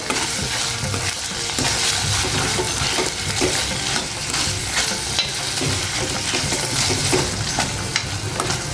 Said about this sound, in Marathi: आता हे व्यवस्थित सर्व मिक्स करून घ्यायचं आहे